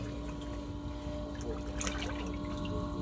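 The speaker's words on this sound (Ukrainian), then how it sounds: "Насос качає, але воду не викачує." Steady mechanical hum of a water pump in a well with a faint trickle of liquid running throughout, fairly close and continuous.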